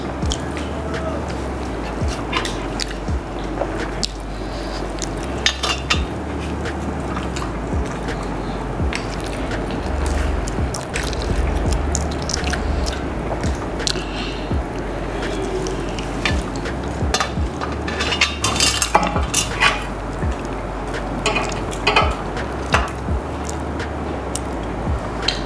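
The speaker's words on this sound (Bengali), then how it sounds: "এবার আমি ডিমের কুরমা দিয়ে খাচ্ছি।" Biryani with egg korma and roasted gobi being eaten with cutlery, steady close chewing and soft squishy mouth sounds with small clinks of utensils on a plate, continuous throughout with no talk.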